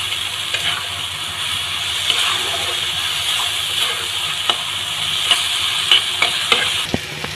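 A spiced mixture for stuffed pointed gourd (potol dolma), seasoned with salt and turmeric, is stir-fried in a pan: a continuous close sizzle with repeated scraping and knocking stirs, the clatter growing sharper toward the end.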